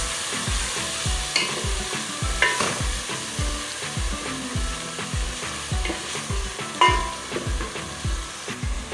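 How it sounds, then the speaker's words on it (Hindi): Lahori chana masala sizzling in a pan as spices and yogurt are stir-fried, with a steady loud frying hiss and regular scraping strokes of a spoon through the masala, close up and with no talk. "मज़ीद 5 मिनट तक हम इसको और भूनेंगे।"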